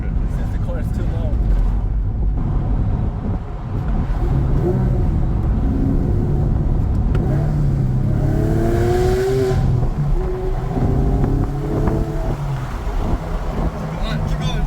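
A sports car with a six-cylinder engine pulls hard in second gear, a loud continuous engine roar rising in pitch from inside the cabin while occupants talk over it.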